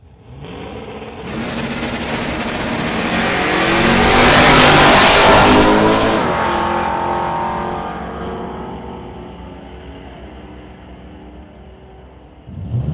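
A Z28 Camaro and a Dodge Dart roar down a drag strip, the engine noise swelling from a distance to a loud, revving peak as the cars pass, then fading away as they pull off.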